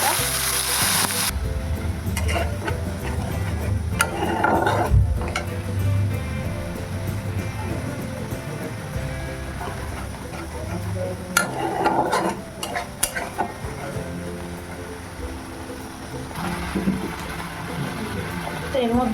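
Spice paste and whole garam masala hit hot oil and fry with a steady sizzle, along with intermittent stirring, clinks of a utensil against the pan and bursts of spattering. Voices are also heard at times.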